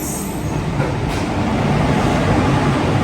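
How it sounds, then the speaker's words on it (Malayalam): A local passenger train on a run toward Kottayam rumbles steadily, with a loud, continuous low roar and rattling of carriages heard up close, with no talk. "ട്രെയിൻ പോകുന്നു"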